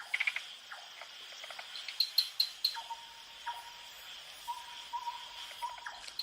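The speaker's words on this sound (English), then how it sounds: "various tree frogs" Night chorus of wild tree frogs and insects in a forest, with repeated short chirps and trills over a constant high buzzing, moderately faint and layered.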